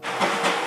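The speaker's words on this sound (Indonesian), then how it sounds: "Kereta Thomas." A Thomas the Tank Engine toy train gives a brief, loud hissing rush with a rattling chug, close and alone for under a second.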